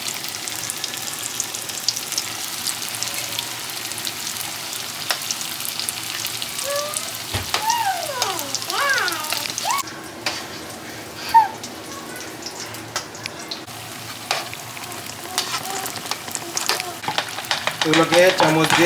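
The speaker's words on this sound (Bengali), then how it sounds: "এবার রোলগুলো আমরা ভেজে ফেলবো" Shrimp and cabbage vegetable rolls fry in hot oil with a steady sizzle throughout, broken midway by a brief spoon scrape and light clatter, with a few faint background noises.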